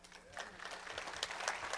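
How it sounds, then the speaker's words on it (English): Church congregation applauding during a service, a dense spread of many hands clapping at moderate distance with a steady, even texture, mixed with faint crowd murmur. "See, they clapped for me this time."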